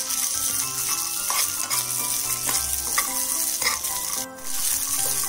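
Peanuts roast and get stirred in a pan over a low flame, giving a steady close sizzle and crackle with scraping stir strokes throughout and no talking.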